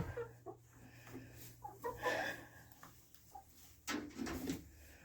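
Hens cluck and squawk in short bursts close by, with soft fowl chatter between calls.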